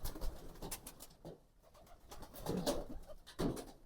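Pigeons coo and shuffle at midday feeding time, soft low calls repeating in a loose rhythm with fluttering and scratchy movement nearby.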